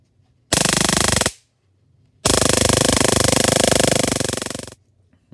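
A 6V to 40,000V DC high-voltage converter throws electric sparks in two loud, close bursts of rapid crackling buzz, one short and one longer, separated by silence.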